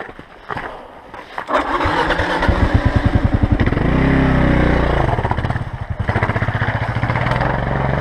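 A motorcycle on an off-road adventure ride is pushed with lots of throttle and clutch. Its loud engine pulses and revs up and down close by, with no talking.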